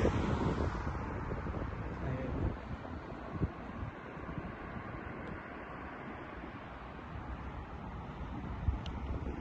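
Cool wind sweeping across open rice paddies in South Korea, a steady broadband rush with buffeting on the microphone, loudest at the start and continuous throughout.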